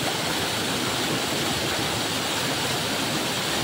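Water pours down a waterfall at Busay, a dense, loud, unbroken roar of rushing and splashing that fills the whole stretch without pause.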